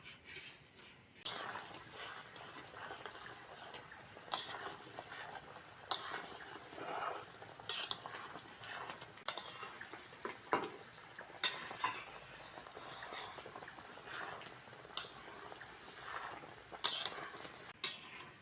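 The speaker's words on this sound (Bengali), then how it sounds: "গুড় দিয়েছি, এবার জলপাইটাকে ভালো করে ফুটিয়ে নেব, ফুটিয়ে সিদ্ধ করে নেব।" Olives boiling in jaggery syrup for a pickle: quiet, steady bubbling with irregular soft pops and ticks spread across the whole stretch, heard close without any talk.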